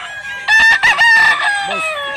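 A gamecock rooster crows loudly and close by at a market in Barili, Cebu, one long strained call with a rough rasping tone, followed by a short clucking sound at the end.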